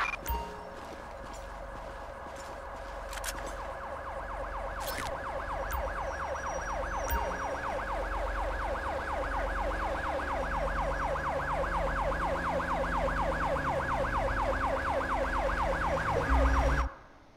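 An ambulance siren in the Grand Theft Auto video game wails loudly and continuously, its rapid repeating cycle running unbroken for the whole stretch over a low rumble before cutting off at the end.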